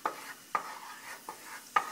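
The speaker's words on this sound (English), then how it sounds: "coconut milk for frying the curry" Coconut milk being fried in a pan as the first step of a Thai dried red curry with shrimp, with four sharp scraping stir strokes spaced about half a second apart over a soft, steady sizzle.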